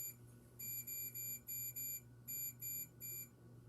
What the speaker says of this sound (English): it's going to make that beeping sound